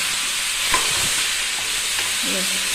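Tomato chutney sizzles steadily in a pan, with a few scraping stirs of a spoon and soft thumps over the continuous close frying hiss.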